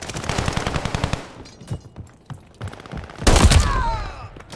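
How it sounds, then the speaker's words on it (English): Rapid automatic gunfire in Call of Duty Vanguard multiplayer deathmatch: one dense burst, a pause with a few scattered shots, then another loud close burst. "That was like over 15 shots."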